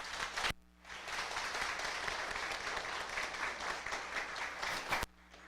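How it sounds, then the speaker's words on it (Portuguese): Audience applause at a formal solemn session in a city chamber, a steady dense wash of clapping lasting several seconds and then cutting off abruptly. "Que merece uma salva de palmas."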